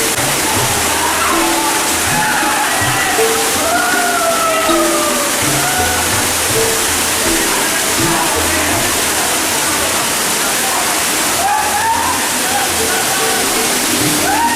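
Ranijhariya waterfall, a remote cascade reached by a six-kilometre footpath, roars as a loud, steady rush of falling water that fills the whole scene, with faint higher calls drifting over it.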